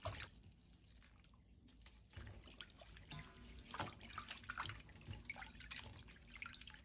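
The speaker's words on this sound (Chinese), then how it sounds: "然後再把蒜苗也清洗乾淨" Tap water runs steadily into a sink while garlic sprouts are rinsed, a close, continuous splashing and dribbling with no talk.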